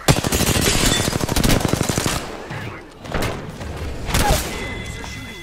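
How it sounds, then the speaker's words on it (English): Rapid automatic gunfire rattles loudly in a shooter video game, a dense burst followed by heavier single shots and thuds, with a brief game voice prompt under the firing. "They're shooting at me."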